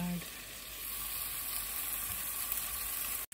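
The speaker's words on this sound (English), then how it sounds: "then I'm going to saute this vegetable, cabbage, and beautiful collard greens" Cabbage and parboiled collard greens saute in a hot pan with a steady, even sizzle that runs unbroken throughout, close and moderately loud.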